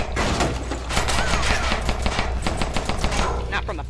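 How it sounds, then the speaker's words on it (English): Rapid machine gun fire in the People Playground sandbox game, a dense continuous burst of loud repeated shots throughout. "Not from a pistol, let's say this machine gun."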